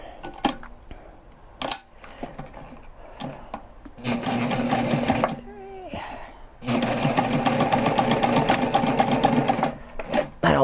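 A sewing machine backstitches a backpack seam in two bursts of rapid, rattling stitching, separated and framed by handling clicks, rubbing of fabric and brief low speech.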